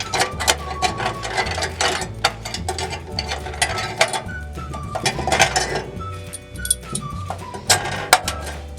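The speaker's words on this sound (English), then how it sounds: "So we're using a 10mm socket. Simply unscrew this, remove the plate so that you can pull out the sensor." A ratchet wrench with a 10mm socket unscrews the sensor plate on a towel steamer, giving a rapid clicking ratchet rhythm with metallic clinks, steady and close throughout.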